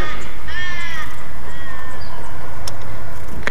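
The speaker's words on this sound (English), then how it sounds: "Can you hear that? I think they're crows." Crows cawing outdoors over a loud, rumbling background, a few drawn-out harsh calls in the first half, then quieter.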